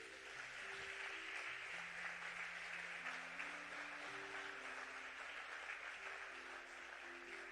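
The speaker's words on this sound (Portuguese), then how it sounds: "Glorifica Ele, aplauda Jesus mais uma vez." Church congregation applauding continuously in a worship service, a steady wash of clapping with sustained music or organ tones running underneath throughout.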